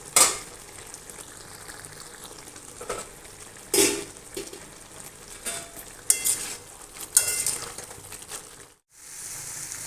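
Broad beans (avaraikkai) frying uncovered in an Indolium kadai, a steady close sizzle broken by several loud scraping stirs of a metal spoon against the pan, ending with a brief silence.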